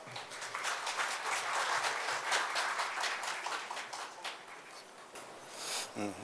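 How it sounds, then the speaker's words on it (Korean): Warm audience applause greets a Korean ministry official walking to the podium at a national AI computing center project briefing, steady dense clapping throughout that tapers slightly near the end. "참석자 여러분들의 뜨거운 박수 부탁드립니다."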